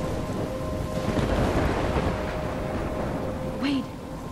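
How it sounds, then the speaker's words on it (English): A thunderstorm with rain in the Life Is Strange video game: a dense, loud, steady wash of rain and rumble runs throughout, with a brief tonal sound near the end. "We seem to be in the middle of a storm."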